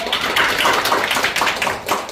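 An audience at a district education policy forum claps to welcome a presenter to the stage. The dense, even applause rolls steadily from the crowd and eases slightly near the end, with no talking over it.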